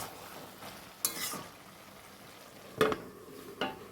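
Fried prawns stirred into bottle gourd in a pan, a faint low simmer with three distinct scraping clatters of a spatula against the pan, close and quiet, no talking.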